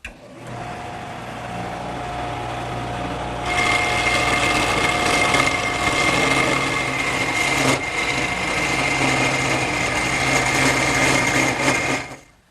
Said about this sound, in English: I've now changed the triangular cutter to a square carbide cutter, and that'll make quick work of turning the taper.